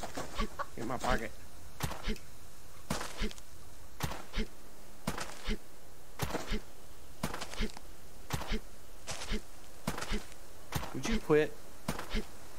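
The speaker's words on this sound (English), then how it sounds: "There's a chicken." Chickens cluck in the survival video game Subsistence: a steady series of short, sharp clucks repeats at a regular pace across the whole stretch, fairly close and clear over quiet background ambience.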